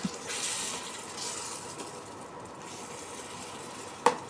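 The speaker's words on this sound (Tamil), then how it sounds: "அரை டம்ளர் அளவுக்கு தான் நான் தண்ணி ஊற்றிருக்கேன்" Water poured into prawn masala simmering in a pan, a soft steady pouring and sizzling wash that swells early and fades, ending with a brief sharp clink near the end.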